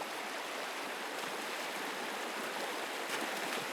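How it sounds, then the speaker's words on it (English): A cold river of melted snow in Svalbard rushes over slippery rocks, giving a steady, dense, even hiss of flowing water with no voices. "you have to cross this river of melted snow"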